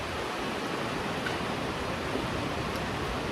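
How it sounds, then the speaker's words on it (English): Heavy rain pours outside a shop, a steady, dense broadband hiss with no breaks, heard from indoors. "it's pouring rain. Can you hear it?"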